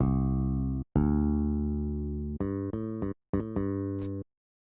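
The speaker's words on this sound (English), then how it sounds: "it's called Boo Bass right here. It's a stock FL Studio sound" Boo Bass, a stock FL Studio bass synth plugin, plays a short phrase of sustained deep bass notes followed by a few quicker staccato hits; clean, loud and close with no voices.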